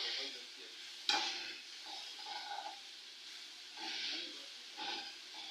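Onions fry softly in a pan while being stirred, faint sizzling swelling in several short bursts, with an initial sharp clink of a spoon against the pan.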